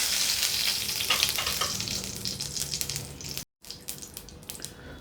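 Loud crackling sizzle of tempering spices frying in hot oil for an eggplant curry, with bursts of spattering, then a brief cut and softer continued sizzling.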